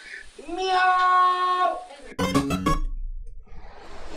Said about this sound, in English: Did he just meow at an egg?